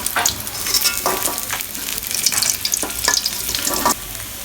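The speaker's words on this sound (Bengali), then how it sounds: "মাছগুলো ভাজা হলে উঠিয়ে নেব।" Koi fish frying in hot oil in a kadai, a steady close sizzle with crackling spatter and a few scraping stirs, no talk.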